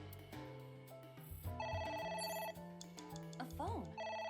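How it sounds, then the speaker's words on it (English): A telephone rings inside the video game Ai: The Somnium Files, its bright repeating electronic tones playing over a continuous layered game music score. "A phone. Should I pick it up?"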